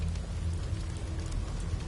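Steady rain falls in a scene from the video game The First Descendant, a dense continuous hiss with a low rumbling undertone throughout, no voices heard.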